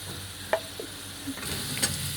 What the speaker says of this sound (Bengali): আলুগুলো আমি অল্প হলুদ নুন দিয়ে ভাজছি।